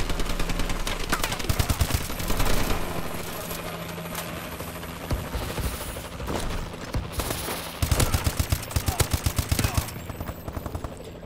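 Rapid game gunfire from Call of Duty: Advanced Warfare, with dense bursts of automatic shots through the clip and heavier volleys near the end, all loud and up close over a busy battle backdrop.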